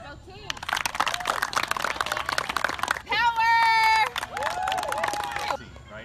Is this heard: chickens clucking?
no